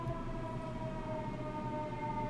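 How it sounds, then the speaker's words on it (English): A steady, faint wailing siren drones in the distance with a sustained tone, heard alone over low background hum. "The sirens coming."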